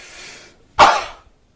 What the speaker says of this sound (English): If I cough like this, versus this